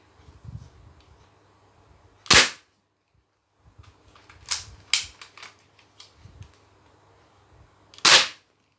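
Thompson submachine gun fired at a paper target from about two to three metres, giving two loud, sharp isolated reports with a cluster of quicker, lighter cracks between them, no talk.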